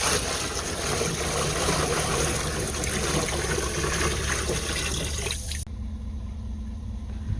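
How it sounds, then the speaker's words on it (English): Fresh water gushes steadily into a tank for holding glass eels for several seconds, then cuts off abruptly, leaving quieter background noise. "Now I'm adding the fresh water."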